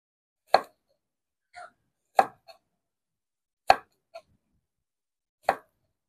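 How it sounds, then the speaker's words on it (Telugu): A knife cutting raw banana crosswise into pieces, four sharp chopping strikes on a board, evenly spaced and close, each followed by a softer small tap, with silence between. "ఈ ముక్కతో అయితే కొన్ని ఇలా అడ్డంగా కోసినవి కూడా చేద్దాము"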